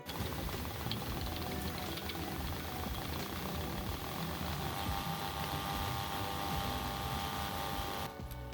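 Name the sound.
electric motor spinning, driven by homemade electronic speed controller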